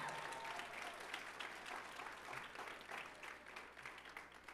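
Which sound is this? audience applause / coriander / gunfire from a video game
audience applause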